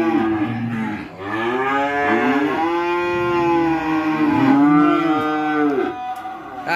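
Cattle at a cattle farm moo loudly and close by, several long drawn-out calls in succession with rising and falling pitch, without speech.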